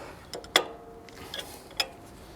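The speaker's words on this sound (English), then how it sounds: "Put a wrench on there and then tighten that one up." A wrench tightens a fitting on a propane forklift regulator, giving a few sharp, faint metallic clicks and ticks spaced apart, close with no talking.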